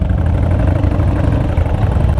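A Harley-Davidson motorcycle idles up close, its engine giving a loud, steady low rumble with a continuous uneven throb and no talk over it.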